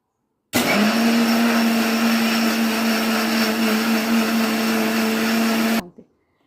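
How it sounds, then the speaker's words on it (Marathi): A mixer grinder loudly blends curd, sugar and ice into lassi, a steady whirring motor drone running for about five seconds before cutting off abruptly. "आणि आता हे मिक्सरला आपण काढून घेऊ."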